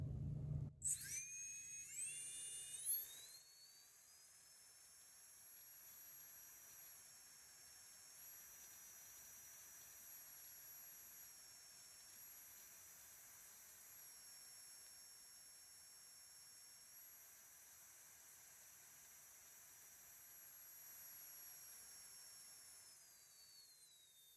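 An inrunner brushless jet turbine fan motor spins up to a steady, piercing high-pitched whine, with rising tones at the start, then holds a constant shrill hiss and scream for most of the time before a brief louder surge near the end.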